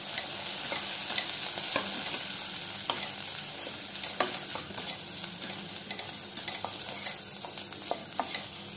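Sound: grated coconut mixture stir-frying in a pan

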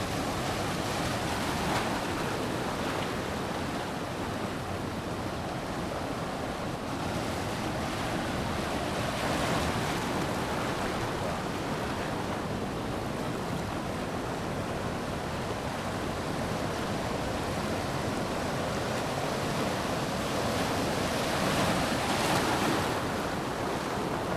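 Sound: big sea waves on the Konkan coast

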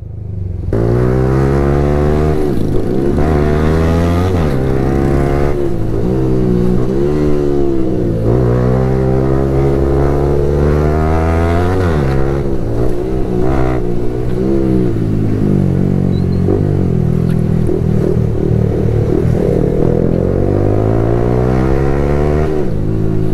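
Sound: Honda motorcycle riding with three people aboard

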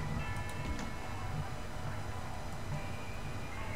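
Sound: roller coaster train running on track in video game Planet Coaster

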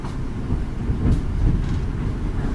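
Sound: electric passenger train running

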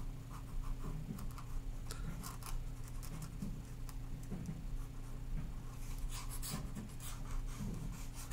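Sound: scribbling on paper, drawing like pretend cursive writing

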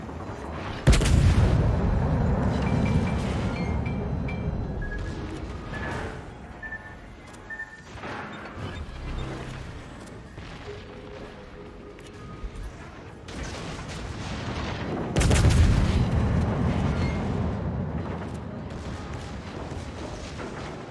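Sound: warship guns firing in video game, Yoshino battleship

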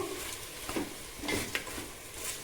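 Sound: mixing chicken kebab ingredients with salt

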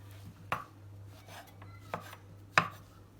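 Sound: chopping mushrooms with a knife

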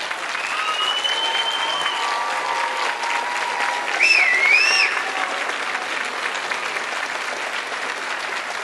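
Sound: commencement audience applauding

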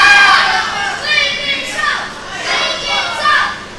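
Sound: wrestling crowd cheering to rouse a wrestler

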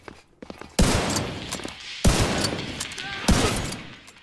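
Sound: gunshots in video game The Division 2

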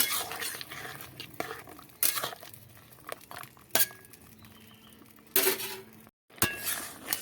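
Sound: dried lentil dumplings (bori) poured into pan and stirred

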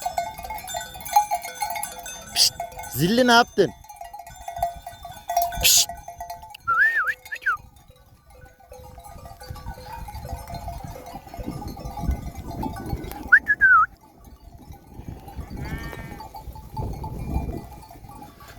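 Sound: sheep

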